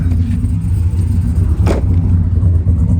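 A rebuilt car engine idles while warming up, a loud, steady low rumble with a brief louder swell partway through, no speech over it.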